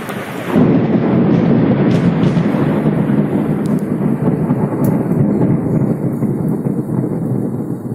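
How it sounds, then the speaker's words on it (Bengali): A June afternoon thunderstorm in Ghatal subdivision: loud, continuous rumbling thunder rolls over heavy steady rain for the full stretch, with no voices. "দুপুর 3:30 নাগাদ বজ্রবিদ্যুৎ সহ বৃষ্টি শুরু হয়"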